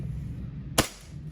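A single sharp crack from a WE M1911 gas airsoft pistol with real wood grips, one close shot over a steady background hum.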